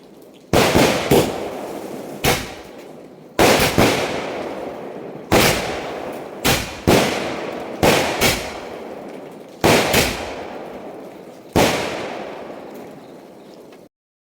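Firecrackers and fireworks go off at an outdoor New Year 2024 celebration in Wayanad, Kerala: more than a dozen sharp, loud bangs, some in quick pairs, each trailing a crackling decay, with no voices.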